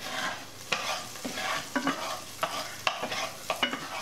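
A wooden spatula stirs melted butter and chicken of the woods mushrooms in a frying pan, giving irregular scraping knocks over a soft sizzle, close by and with no talking.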